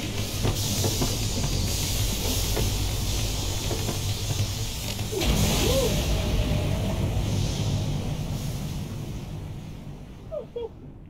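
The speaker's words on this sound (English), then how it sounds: "Wow, you steam this crab to perfection." A steamer hisses while steaming a horsehair crab in the video game Dave the Diver, a loud, continuous hiss that fades at the end, with a few brief chirping game tones.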